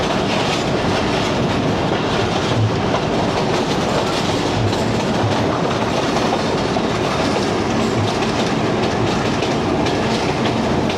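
Lasani Express passenger train running on rails between Lahore and Baddomalhi, a loud continuous roar of wheels with rhythmic clickety-clack over rail joints, heard from on board without any talk.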